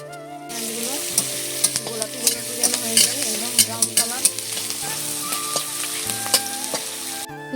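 Chopped onions sizzle and fry in a pan with whole spices while a spoon stirs, scraping and clinking in irregular bursts over a constant close hiss of hot oil, preparing a country chicken curry.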